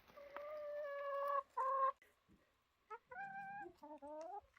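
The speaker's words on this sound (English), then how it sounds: "Oops, I got the chickens all excited when I got the perlite." Chickens clucking and squawking nearby in short, excited bursts with brief pauses between calls, stirred up by a bag of perlite being fetched.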